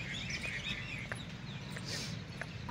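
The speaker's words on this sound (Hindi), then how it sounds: "बहुत सारे पंछी है, बहुत आवाज़ें आ रही है, चू चू चू चू चू चू चू चू चू चू।" Many birds chirp and tweet at Unkal Lake in Hubli at sunset, with scattered overlapping calls over a steady low outdoor hum and no talk.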